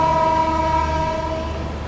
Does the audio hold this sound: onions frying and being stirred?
no